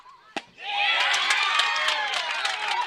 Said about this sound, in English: You can hear the Hayesville crowd. It's building.